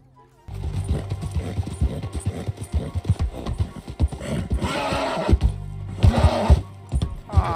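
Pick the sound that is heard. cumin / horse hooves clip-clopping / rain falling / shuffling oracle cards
horse hooves clip-clopping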